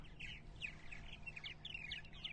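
Purple martins chirping at a colony on eastern Long Island on a spring morning, a flock of quick warbling, gurgling calls repeating steadily over low background hum, moderately near.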